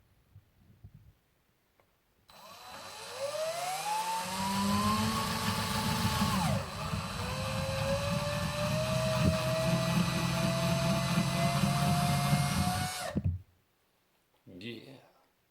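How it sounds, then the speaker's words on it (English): A whining motor drill runs continuously for about ten seconds, drilling a popper fly body, its pitch dipping under load then steadying, before cutting off; a faint voice follows briefly. "the part of the fly that I actually have been enjoying the most by far has been drilling them"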